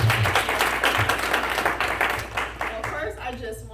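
Audience applause at a membership meeting after State Representative Kyra Harris of Southfield is introduced, a dense steady clapping that thins toward the end, with a voice talking over it.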